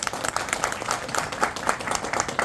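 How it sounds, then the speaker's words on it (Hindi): An audience gives a loud, dense round of steady clapping at an indoor gathering. The applause fills the whole stretch, close and continuous, with no talk over it. "मैं चाहूंगा एक बार जोरदार ताली"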